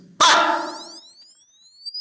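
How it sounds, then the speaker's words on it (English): A loud sharp noise sets off a sound-activated alarm, followed by a single short burst of rising electronic chirp tones fading out, heard close and alone. "And my alarm goes off."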